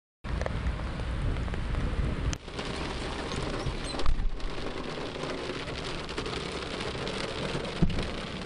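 Steady heavy rain pouring onto surfaces, a dense continuous hiss with a low rumble like distant thunder, and a few brief louder bumps, with no voices.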